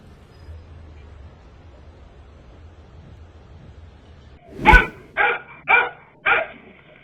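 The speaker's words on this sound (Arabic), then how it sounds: "هنا بنشوف كلاب شجاعة بتتخانق مع كبرى حاولت تدخل البيت اللي فيه طفل عمره سنة واحدة" Dogs barking while fighting a cobra that tried to enter a house: quiet background, then four loud, close barks in quick succession near the end, one sharp bark followed by three more.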